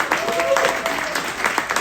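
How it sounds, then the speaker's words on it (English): A stand-up comedy audience claps in a short, scattered burst of applause, moderately loud with some crowd murmur mixed in. "You can clap for that."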